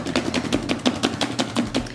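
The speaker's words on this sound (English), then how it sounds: "Just kind of shake it, because you want to get the chicken covered." Chicken wings are shaken in a covered container for a cilantro lime wing recipe, giving a steady run of about ten quick rhythmic rattling thumps, close and fairly loud, with no talking.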